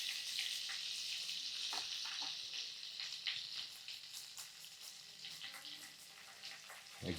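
Grated ginger drops into a hot frying pan and sizzles steadily in a bright, hissing crackle that eases slightly and then continues close up, with no voices over it.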